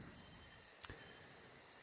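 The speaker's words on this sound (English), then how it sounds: "The sound of the crickets, the rushing, beautiful sound of the brook" Crickets chirp at night beside a brook, very faint and steady, with a high pulsing trill over soft background hiss and one brief click.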